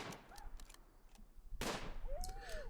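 Shotgun blasts in the tribal colony game Rimworld: a few sharp, brief reports, with the biggest one landing in the middle and moderate loudness throughout, while a voice speaks faintly nearby.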